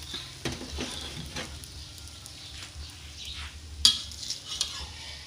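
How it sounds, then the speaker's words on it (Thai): Metal spatula scraping and clinking in a frying pan as a homemade omelette fried in lots of oil is scooped into a bowl, soft sizzling underneath and one sharp clank, fairly close. "แล้วตักใส่ถ้วยเลยนะครับ"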